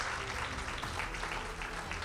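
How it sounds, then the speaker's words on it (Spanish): Faint, steady applause from a church congregation, a soft wash of hands clapping heard from a distance beneath a low background hum. "give a round of applause to the Lord"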